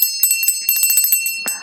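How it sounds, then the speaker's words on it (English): A small story bell rings in quick, bright, repeated strikes, close and clear, ending in a softer rattling ring. "I will ring the story bell."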